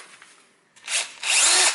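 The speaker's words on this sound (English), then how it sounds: "now I have in here my electric drill, and I am planning to do a couple of holes" An electric power drill whirs in two short bursts, a brief lower spin-up then a louder sustained whine, close by during a front bumper replacement on a 1991–2002 Toyota Corolla, with no talk.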